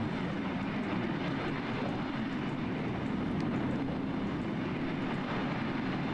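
Inside a simulated MD-82 airliner climbing out of Toulouse in Microsoft Flight Simulator, a broad steady engine roar and rumble fills the cockpit, unbroken and moderately loud throughout.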